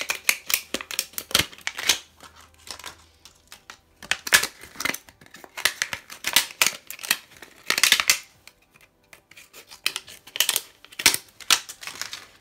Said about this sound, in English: fold it in half and cut at the top and cut at the bottom